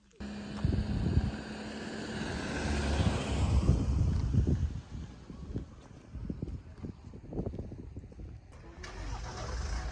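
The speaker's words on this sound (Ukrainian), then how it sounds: "Ця машина приїхала, зараз буде розмінувати тут деякі місця" A demining vehicle's engine rumbles as it arrives at a site in the Donetsk region of Ukraine. It sounds close and loud, with steady low-end roar and wind buffeting the microphone, and it eases off slightly toward the end.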